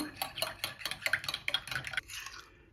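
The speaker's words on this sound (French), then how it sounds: "dans mon lait qui est chaud, je vais mettre ma levure. Je brasse bien" A spoon stirs yeast into warm milk in a bowl, making quick, rhythmic clinking scrapes close by for about two seconds before easing off; no talking.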